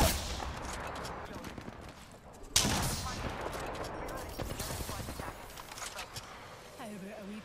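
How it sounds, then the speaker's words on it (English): Gunfire in the video game Apex Legends, rapid bursts of shots and a sharp loud crack midway, followed by scattered firing, while a player talks over the action. "They're shooting at me."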